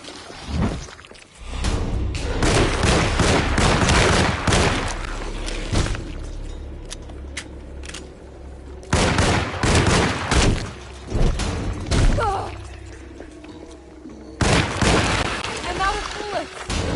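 Gunfire in the video game Alone in the Dark comes as loud bursts of rapid shots and booming impacts in clusters separated by quieter stretches, with speech in between.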